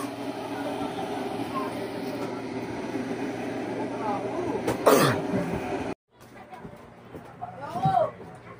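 Coughing and throat clearing from a person with a cold and flu, close and loud, mixed with background noise and some talking.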